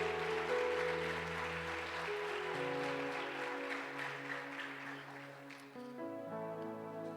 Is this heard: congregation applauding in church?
yes